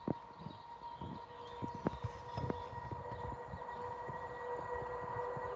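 A Pendolino train passes on the West Coast Main Line north of Crewe, heard faintly and at a distance as a low rumble with irregular wheel clicks and clatter that slowly grow.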